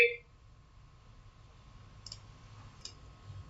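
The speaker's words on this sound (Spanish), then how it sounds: "Damos la opción clic para que se deseleccione, clic derecho, abrir tabla de atributos." A computer mouse clicks while working in ArcGIS Pro, with two brief, quiet clicks about a second apart over a low, steady hum.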